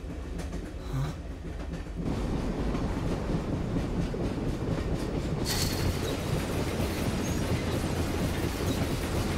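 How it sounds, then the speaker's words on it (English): In a cutscene from the video game Persona 3 on the PS2, a train rushes past with a steady, loud rumble and a rattle of wheels that fill the whole scene. A brighter burst of noise comes midway through. "Huh? Trains!"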